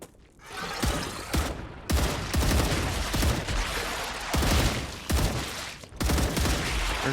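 Pistol gunfire in the sci-fi video game StarRupture, a rapid run of loud, sharp shots in several bursts with short pauses between, close and dominant throughout.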